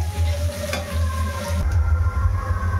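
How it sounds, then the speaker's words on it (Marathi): Chopped onions sizzle and fry in a pan while a utensil stirs them, giving a close, continuous crackle with soft scraping throughout. "कांदा चांगला थोडासा लालसर होईपर्यंत जरा हलवत राहायचं आहे"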